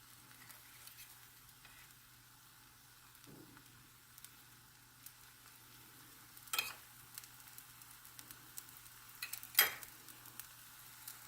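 Adai batter frying in coconut oil on a hot pan: a soft, steady sizzle runs throughout, with a few brief clinks and scrapes of a utensil standing out near the end.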